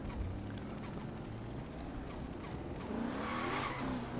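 Tires squeal under a car drifting in the Forza Horizon 3 racing video game, a continuous engine and skid roar with a sharper screech rising near the end, moderately loud and steady.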